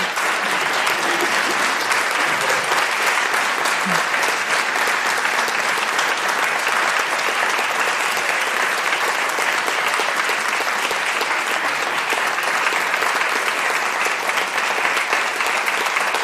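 A large audience at the Cornwall Heritage Awards 2024 ceremony claps in sustained, even applause that holds steady and full throughout, with no voices standing out.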